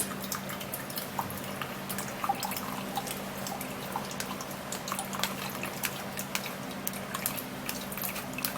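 Juice drips steadily as fiber is strained out of it. Quick, faint drops and patters trickle continuously, close by over a low, even background hum, with no talk.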